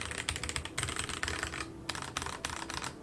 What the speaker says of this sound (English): box switches do have a higher pitch sound than normal